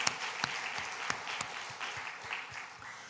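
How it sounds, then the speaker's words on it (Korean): A church congregation claps together in thanks during a worship service. The applause is steady, dense and continuous at moderate volume, with a few sharper individual claps standing out. "그 하나님께 우리 감사의 박수를 올려드립니다"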